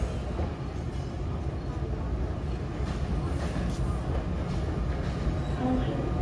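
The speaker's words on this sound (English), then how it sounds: "The next train on the wrong track does not take customers." An NJ Transit train passes through Summit station in New Jersey during evening rush, a steady, loud, broadband rumble filling the whole stretch with a faint voice in the background.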